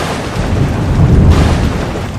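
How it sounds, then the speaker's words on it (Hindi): Thunder rumbles through a storm on the Kedarnath trek in the Himalayas, a loud, sustained low roll that swells near the middle and fades, with rain noise beneath and no talking. "बिजली कड़कने लगी"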